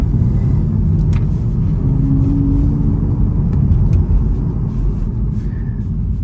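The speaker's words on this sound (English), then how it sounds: "Car's pulling very strong." A BMW M135i with Bilstein coilovers pulls hard under acceleration, its engine rumbling loud and steady from inside the car throughout, with no one speaking.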